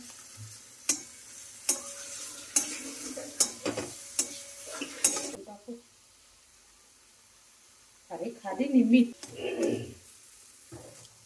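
Spoon clinks and scrapes against a pan while mixed vegetable curry of peas, potato, tomato and turmeric is stirred and sizzles faintly, followed by a pause and then a voice speaking.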